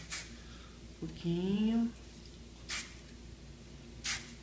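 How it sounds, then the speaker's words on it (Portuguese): Hairspray sprayed in short jets onto the teased fringe of a wig: three brief, faint hissing bursts spaced out over a few seconds, with someone speaking briefly between them. "Depois de desfiado, um pouquinho de spray, tá?"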